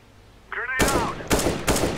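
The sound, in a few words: gunfire in the video game CS:GO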